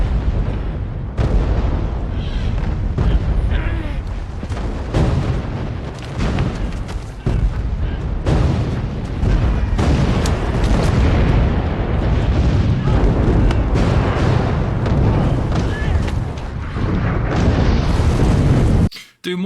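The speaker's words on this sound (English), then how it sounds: "Do mortars always land in like the same spot once it shoots out of the barrel?" Mortar shells bursting in a WWII war series, a continuous loud barrage of heavy booms and blasts with dense rumbling battle noise throughout, cutting off abruptly at the end, with talk faintly mixed in.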